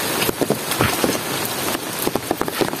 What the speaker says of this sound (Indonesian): Hampir 2 hari ini hujan terus.